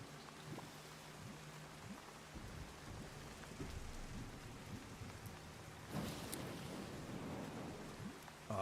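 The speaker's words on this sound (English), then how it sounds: "I love the sound of the rain in the game." Steady rain in the survival video game Once Human falls as a constant hiss with occasional rumbles of thunder, swelling louder around the sixth second and continuing with no voices.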